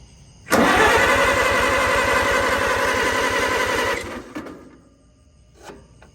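A barn-find Farmall 140 tractor engine cranking at half throttle with no choke, a loud rapid chugging rhythm for several seconds that cuts off abruptly, followed by faint clunks.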